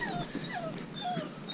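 A fox terrier on a badger hunt whimpers and whines in a few rising and falling high cries, close by and fairly clear.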